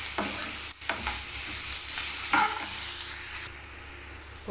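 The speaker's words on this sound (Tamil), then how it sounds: "வெங்காயம் வந்து நல்லா பாருங்கள் செவந்து நல்லா வதங்கிருச்சு" Onions sautéing with salt in a pan for an onion chutney, a steady close sizzle and frying crackle with occasional stirring scrapes, no voices.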